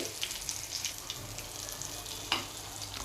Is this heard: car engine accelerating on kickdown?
no